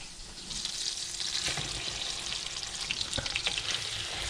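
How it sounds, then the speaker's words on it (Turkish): Thawed, drained shrimp hit a hot pan with garlic, giving a soft steady frying hiss with occasional stirring clicks, fairly quiet and close, no voices. "süzdürdüğüm karidesi hemen tavaya ekliyorum"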